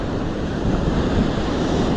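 Heavy sea waves at Chandrabhaga beach near Puri, Odisha, give a steady, loud roar of surf with continuous wash and wind buffeting the microphone, close and unbroken throughout.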